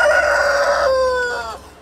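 A rooster at a poultry farm in Natore gives one close, loud crow that trails off over about two seconds, its tone bright and strained.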